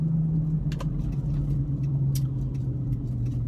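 A car driving at night, its steady low engine rumble and road noise running continuously from start to end, with a few faint brief ticks on top.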